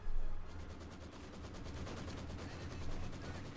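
Katyusha rocket barrage in Company of Heroes 2, a rapid rattling volley of launches firing in quick succession over a low rumbling bed, loud and sustained, with no voices.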